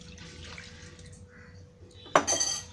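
Water poured into a pot of tomato rasam with tamarind extract. A short, bright splashing gush starts near the end, after a stretch of quiet kitchen background.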